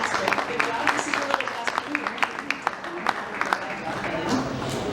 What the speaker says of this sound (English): let's have a nice round of applause for our good job